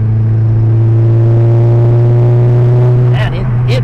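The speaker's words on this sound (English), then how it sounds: "It boosts so fast when there's no exhaust restriction, man." A Mitsubishi Galant VR4 running an open downpipe with no exhaust restriction drones loudly with a steady, heavy low tone that shifts briefly near the end as the boost builds.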